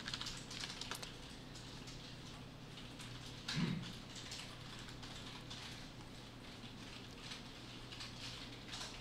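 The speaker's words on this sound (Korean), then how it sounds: "그 다음에 또 컨트롤 T를 눌러요." Steady typing on a computer keyboard while keyboard shortcuts are entered in a web browser, a continuous patter of soft key taps at moderate distance with no talking.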